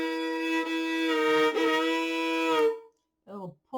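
Guitar pull-off imitating a steam train whistle cutting off, a sustained bright tone ending abruptly, followed by brief faint plucked notes.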